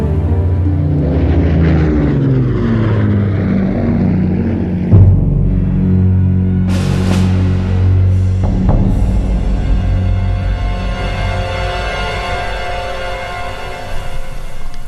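A propeller aircraft, like a WWII Grumman Avenger anti-submarine plane, drones loudly with a deep, throbbing engine note that swells and shifts, broken by a brief boom partway through, with no speech.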